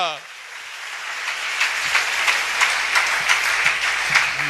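A church congregation claps and cheers in sustained applause during a Pentecostal worship service, dense and crowded, swelling slightly, with a voice calling out above the crowd.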